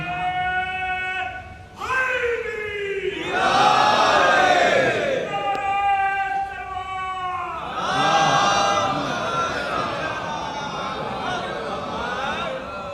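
A crowd at a Shia majlis gathering chants a religious slogan in loud, sustained collective bursts, with a voice leading between the rounds.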